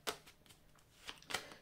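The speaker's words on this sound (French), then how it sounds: "Alors, je vais vous prendre deux cartes ici." Tarot cards drawn from a deck, a few soft, quick papery flicks and slides, faint and close, with short pauses between.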